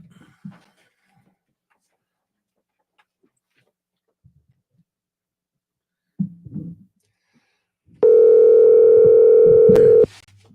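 Steady telephone dial tone during a live call, starting abruptly after a few faint scattered sounds and holding loud and unbroken for about two seconds before it stops.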